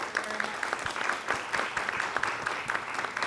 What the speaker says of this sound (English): So please join me in a round of applause to our panel here.